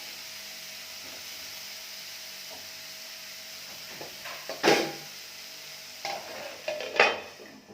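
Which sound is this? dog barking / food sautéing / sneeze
food sautéing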